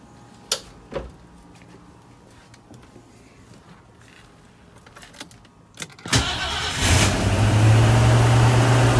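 A 1969 Ford Mustang fastback with a newly installed fuel pump cranks and then fires up at about six seconds, settling into a loud, steady idle after a few quiet clicks and clunks.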